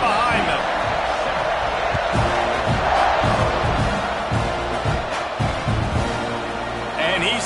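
A football stadium crowd roars steadily at a kickoff after an extra point, a dense wash of cheering with scattered shouts and thumps, close and loud throughout.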